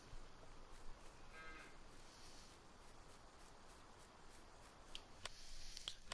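Cattle moo in Farming Simulator 19 on the Sandy Bay farm, where a herd stands out in a pasture. The lowing comes from some distance over a steady ambient bed, and a couple of sharper clicks sound near the end.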